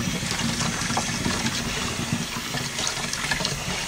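Glass noodles are rinsed under a running kitchen tap, giving a continuous, close rush and splash of water into the sink for the whole stretch, with no talk.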